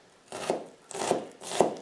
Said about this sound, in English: Now you go all the way down and you do a little bit more chopping